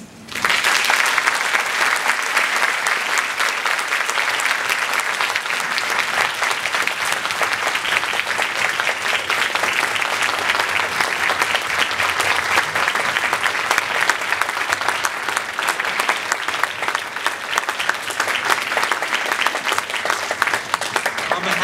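An audience at a lecture event bursts into sustained applause, a dense, even roar of many hands clapping that holds steady for over twenty seconds at full strength.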